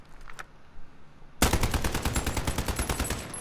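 Rapid automatic gunfire from an AN-94 assault rifle set up as a DMR in Call of Duty Modern Warfare, a sustained close, loud burst starting abruptly after a brief quiet moment.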